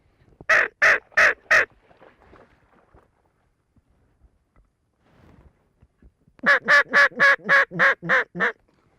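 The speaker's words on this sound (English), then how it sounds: "Bluebill right here, bluebill." Scaup ducks (bluebills) call near hunters in a South Texas duck marsh: a quick burst of four loud, clear quacking calls, a quiet stretch with faint rustles, then a longer run of about eight rhythmic calls close by.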